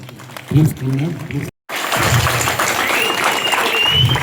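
A short spoken voice gives way to a crowd clapping steadily and warmly to welcome the chairperson at a Semi-Christmas celebration in a prayer hall in Ammanabrolu, the applause sustained and fairly close.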